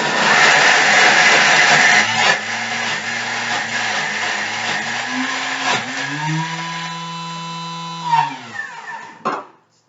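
A Thermomix blends a large batch of laksa paste, a loud steady whirring grind that holds for about six seconds, then eases into a lower, smoother hum with shifting pitch before cutting off near the end.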